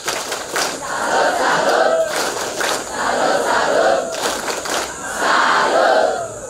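Students at SMK Stella Maris in Labuan Bajo perform a rhythmic clapping salute at an anti-bullying school event, loud group claps and shouted chanting in three repeated bursts.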